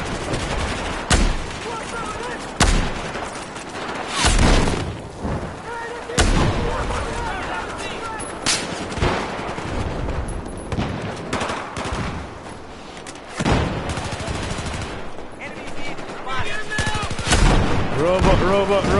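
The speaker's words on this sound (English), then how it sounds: "Grenade launcher coming in." Gunfire and artillery-like blasts from the video game Battlefield 4, including grenade launcher fire, come as repeated loud bursts and booming hits over continuous battle noise, with players talking over the action.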